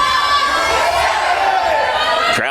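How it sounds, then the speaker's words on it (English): A wrestling video game crowd cheers in a loud, continuous roar of mixed voices, with shouts rising out of the din before it cuts off abruptly. "Crowd trying to get behind Christy here as she's trying to get back to her feet here."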